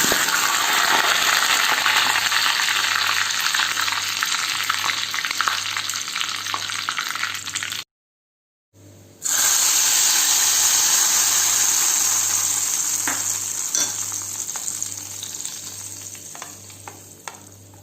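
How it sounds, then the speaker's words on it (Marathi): Mustard seeds and curry leaves crackle and sizzle in hot oil for a tempering, loud and continuous with scattered pops, briefly cutting out partway before the frying carries on and slowly eases. "आता आपण यामध्ये मोहरी आणि कढीपत्त्याचा तडका देऊया."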